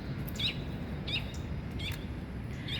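Faint bird chirps come every half second or so, four short calls over a low rumbling background, fairly distant.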